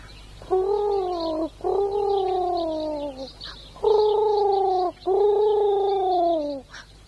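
A human voice imitates a pigeon cooing in four long, throaty, gargling coos at an even pace. The voice is close and loud, with no other talking.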